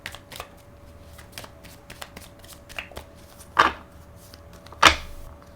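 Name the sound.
shuffling tarot cards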